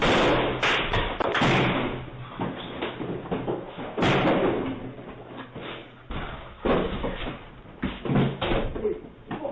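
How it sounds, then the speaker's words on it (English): A shirtless man smashes a residence's front door late at night in New York, caught on a Ring doorbell camera: a series of loud, heavy thuds and slams in irregular bursts, close and harsh, with faint muffled voices. "Late at night, a man without a shirt breaks into a residence and smashes the door down."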